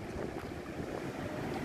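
Strong wind buffets the microphone on an old steel bridge over a flooded river, a steady low roaring rumble throughout with no speech.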